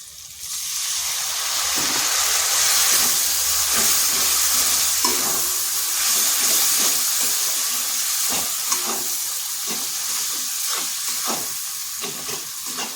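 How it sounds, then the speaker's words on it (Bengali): A chili-powder and turmeric spice paste, moistened with a little water, fries loudly in a pan for a chicken dish, with a constant hissing sizzle and scattered stirring scrapes, close up and without voices. "আর লঙ্কার গুঁড়ো এর মশলাটা ভালো করে কষে নিচ্ছি এখানে সামান্য একটু জল দেব যাতে মশলাটা না পুড়ে যায়"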